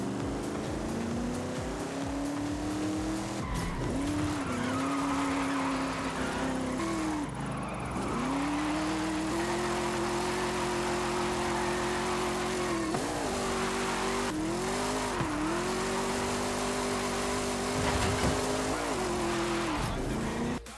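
Ford car drifting through a long drift zone in Forza Horizon 5: a loud, sustained engine drone whose pitch dips and rises with each throttle change, over continuous tire and road noise.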